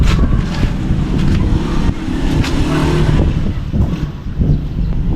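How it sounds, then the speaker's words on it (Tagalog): Steady, loud wind buffeting the microphone outdoors, a continuous low rumble with gusty swells and no voices. "Medyo malakas yung hangin ngayon."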